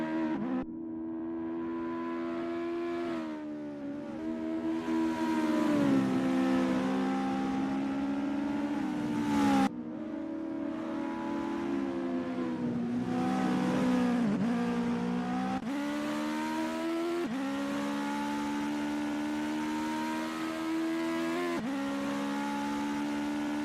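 US Legend race cars lapping Mid-Ohio, one engine droning steadily near and loud with rising and falling revs through gear changes and corners, other cars faint behind, no talk.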